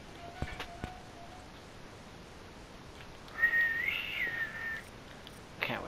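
A person whistling in Tom Clancy's Rainbow Six Siege: a short, faint, wavering tune lasting about a second and a half, set against quiet game ambience with a few soft clicks.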